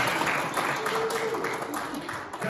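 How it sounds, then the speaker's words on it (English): An audience gives a short, fairly faint patter of applause in a hall, with someone talking over it. "Normally, when I introduce myself, I get a little applause"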